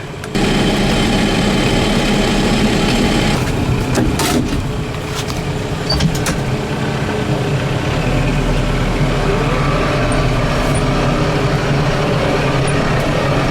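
A tractor engine runs steadily in second gear, high range, while mowing a field with a mower, the loud continuous drone holding throughout with a brief dip near the middle and no talk.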